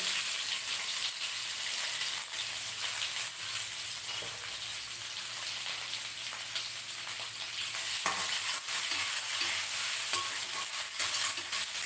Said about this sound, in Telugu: ఇప్పుడు ఇందులోని ఉల్లిపాయలు వేసేస్తాం కట్ చేసి పెట్టుకున్న ఉల్లిపాయలు